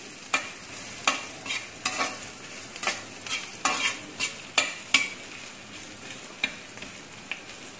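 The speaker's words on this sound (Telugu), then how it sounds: "తురుముకున్న 1/2 కప్పు జింజర్ వేసుకోవాలి నూనెలో బాగా ఫ్రై అవనివ్వాలి" Grated ginger fries in oil in an iron kadai under a steady sizzle, while a spatula strikes and scrapes the metal in a regular rhythm, about a dozen sharp close knocks.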